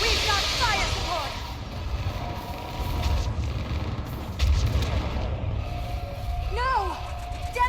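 Distant booming artillery and gunfire rumble through a Mass Effect 3 battle on Thessia, low repeated thuds under game voices and chirping alien sound effects.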